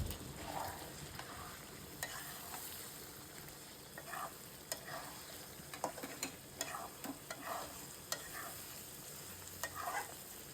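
Garlic and mango pickle being stirred and fried in a pan, heard as a low, steady sizzle with soft, irregular scraping strokes of a spoon every second or so, quiet and with no speech.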